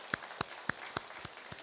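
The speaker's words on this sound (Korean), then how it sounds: "한번 격려의 박수 한번 드리겠습니다." Church congregation at an early-morning Thanksgiving prayer service clapping in encouragement, a faint, slow series of about six separate claps spaced evenly apart in a quiet room.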